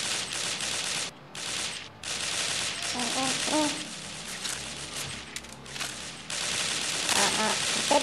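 M4A1 rifle fire in an online shooter clan match, rapid automatic bursts crackling in dense runs with short gaps between them, while a player's voice briefly speaks over the shooting.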